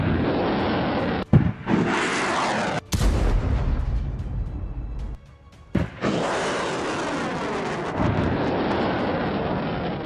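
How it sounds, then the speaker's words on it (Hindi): War footage from Ukraine with artillery, missile and drone strikes. Heavy booms and roaring blasts rumble loudly, separated by abrupt cuts and short quieter gaps, then a sustained roaring barrage fills the second half. "तोपें गरजी, मिसाइलों की बौछार हुई, ड्रोन से भीषण हमला हुआ और यूक्रेन दहल गया"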